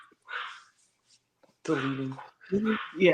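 A dog gives a brief, faint whimpering yip in the background, followed by a person speaking.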